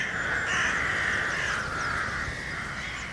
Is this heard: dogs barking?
no